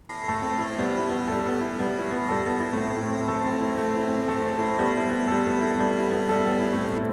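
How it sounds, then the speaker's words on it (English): A steady, sustained tanpura drone hums beneath piano notes, the layered tones holding evenly throughout without any talking. "put that drone on top of the piano and it sounds like this"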